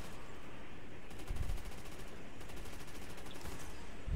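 Rapid automatic gunfire in Call of Duty Nazi Zombies, the Nacht Der Untoten map, rattles in bursts over dense game noise, moderately faint and continuous.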